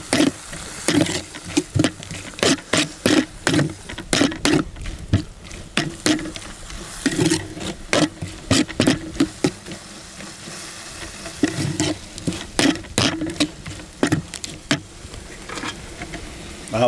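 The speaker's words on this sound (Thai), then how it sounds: "ฝาเขียวใส่ลงไป ผัดแบบแห้งๆนะพี่น้อง" Food stir-fried dry in a pan with fish sauce, a steady sizzle punctuated by sharp, regular scraping strokes of a spatula against the pan, close and prominent throughout.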